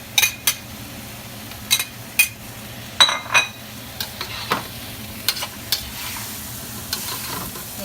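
Ham and vegetables for rainbow fried rice are stir-fried in a pan, a spatula scraping and clinking in scattered sharp strokes over a soft, continuous sizzle.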